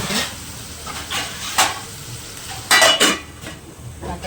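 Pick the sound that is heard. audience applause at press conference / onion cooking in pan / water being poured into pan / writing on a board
onion cooking in pan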